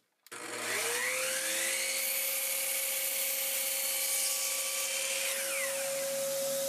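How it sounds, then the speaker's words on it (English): A power saw spins up and cuts a 5-degree miter in a piece of wood for a hockey bag and ski holder, making a loud sustained whine that holds steady, then slows and winds down near the end. "what I'm going to do is cut a 5-degree miter"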